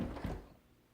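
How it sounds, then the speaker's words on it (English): A single muffled thunk of a door shutting, close by and fairly quiet, fading quickly into near silence. "So I'm going to close the door."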